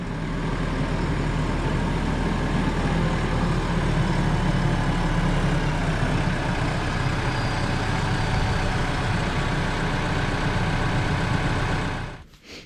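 A tractor engine idles with a steady, low rumbling drone that holds constant for several seconds before cutting off near the end.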